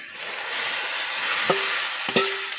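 Dal with jute leaves cooks in a hot wok, a steady close sizzle broken by two quick utensil clinks.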